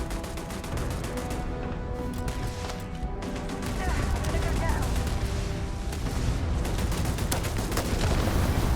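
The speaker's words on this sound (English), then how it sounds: "Turret." Turret gunfire in the Starfield video game, loud dense bursts of shots running continuously with crashing impacts and a steady game soundscape underneath.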